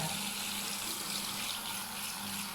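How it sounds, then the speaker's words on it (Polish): A kitchen tap runs into a basin, giving a steady, even hiss of flowing water at close range with no voices over it. "puszczę teraz wodę"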